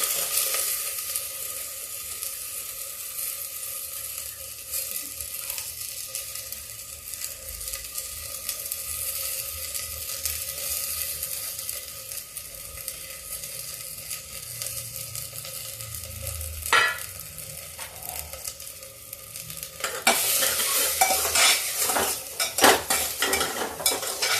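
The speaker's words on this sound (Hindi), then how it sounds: "इस दाल को हम इसे फ्राई कर देते हैं" Dal fries in ghee in a pan, producing a continuous close sizzle broken by occasional clinks of a spoon stirring against the metal, growing louder and more agitated toward the end.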